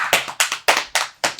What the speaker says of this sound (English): Sad applause.